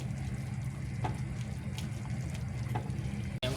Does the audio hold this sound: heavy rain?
no